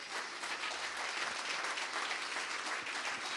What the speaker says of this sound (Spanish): Así que otro fuerte aplauso.